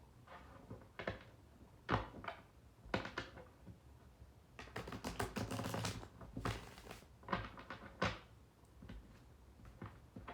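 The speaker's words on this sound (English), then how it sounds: "One more shuffle." Tarot cards shuffled close by, a run of quick riffling flutters and soft taps, some bursts longer than others, with no talking.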